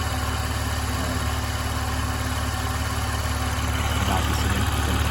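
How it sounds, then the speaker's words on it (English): A 2016 Ram 1500 EcoDiesel pickup engine with stage 2 tune and AFE air filter idles steadily nearby with a low, constant rumble and a faint high turbo whistle running throughout. "you can hear the turbo whistle a little bit"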